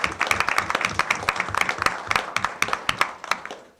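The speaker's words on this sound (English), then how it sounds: "I think you all deserve a round of applause for everybody that's in this room for all the hard work." Applause from the room at a school board of education meeting, a dense run of many hands clapping at a steady, lively pace that holds for several seconds before fading out at the end.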